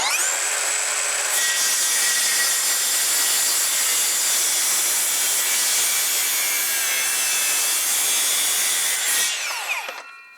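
Handsaw cutting through a clamped wooden board for a single garage step, a steady continuous rasping that runs loud and close for about nine seconds before stopping abruptly, with no talking.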